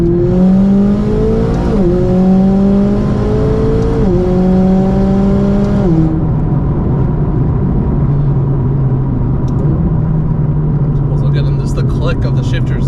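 A McLaren sports car running an 800 horsepower tune drives along, its engine climbing through several rising pitch sweeps, then holding a steady cruising drone. The sound stays loud and continuous throughout, with talk heard underneath.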